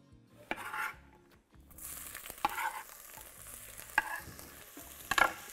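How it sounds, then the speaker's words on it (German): Peppers and onions fry in oil in a pot for a simple paprika rice dish, giving a steady sizzling hiss broken by clinks and scrapes of stirring against the pot. "Paprika und Zwiebeln in den Topf geben, ca. 3 Minuten anbraten."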